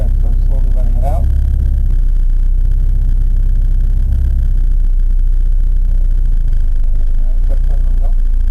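A manual car's engine rumbles low and loud from inside the cabin as a learner driver eases the clutch out, with a few faint swells in pitch, while people talk over it nearly the whole time.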